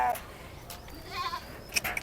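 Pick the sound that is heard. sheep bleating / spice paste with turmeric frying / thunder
sheep bleating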